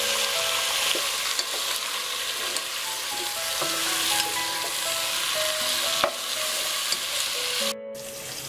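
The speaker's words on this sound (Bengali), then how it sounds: "তাহলে আমি এই সবজিগুলো হালকা ভেজে নিচ্ছি" Vegetables are lightly fried in a pan for khichuri, a continuous close sizzle with occasional stirring scrapes and clinks, ending abruptly near the close.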